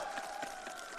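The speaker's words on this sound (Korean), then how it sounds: "함께 하시는 분들은 박수 치시기 바랍니다." An outdoor political rally crowd claps steadily, a dense wash of applause from a large audience filling the moment without pause.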